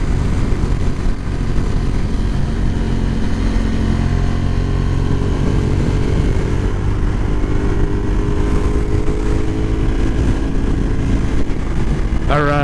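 A 2013 Ducati Diavel AMG motorcycle cruises in touring mode, its engine a steady loud rumble with rushing wind throughout, heard from the rider's position.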